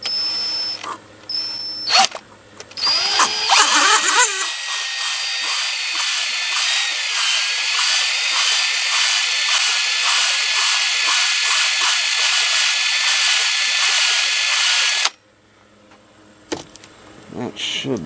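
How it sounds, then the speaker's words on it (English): A power drill spinning an engine valve for lapping whirs steadily for several seconds at a high, even pitch, loud and close, then cuts off abruptly; brief knocks come before and after. "or you can put a drill on it"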